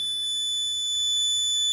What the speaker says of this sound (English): our system is going to stop automatically and buzzer start running